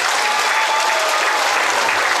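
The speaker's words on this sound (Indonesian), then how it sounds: "Tepuk tangan bagi Yesus." A church congregation gathered for a village anniversary celebration in Long Atip claps for Jesus in a dense, steady burst of loud applause with no pauses.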